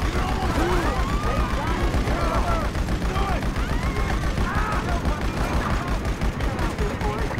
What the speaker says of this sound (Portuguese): Vai ser troca de tiro aqui, não tem jeito não.